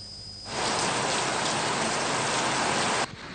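Hail pelting down during a hailstorm in Vattuvakal and Selvapuram, Mullaitivu district, Sri Lanka, a sudden dense roar of hard pellets striking surfaces that starts abruptly, holds steady and loud for about two and a half seconds, then cuts off.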